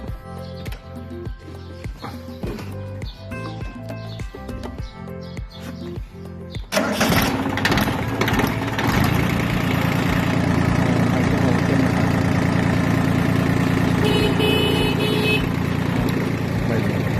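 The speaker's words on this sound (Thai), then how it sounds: "เราทำการติดเครื่องยนต์นะครับ" An old Yanmar F14D small tractor's diesel engine turns over with rapid clanking cranks, then catches and settles into a steady, loud idle, with faint birdsong in the background.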